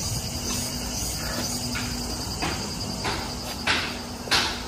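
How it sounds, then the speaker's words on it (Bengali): Dense crickets chirp steadily and loudly in the warm hills around Dirang, Arunachal Pradesh, a continuous high shrill with faint rustling and steps beneath. "প্রচুর ঝিঝি পোকার ডাক"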